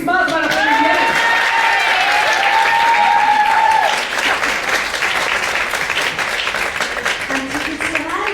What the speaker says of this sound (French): Applaudissements pour la comédienne.